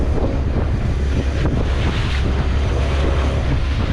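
Strong wind and choppy whitecapped waves surround a cruising sailboat near Baja's Loreto Islands, roaring steadily with heavy wind buffeting on the microphone.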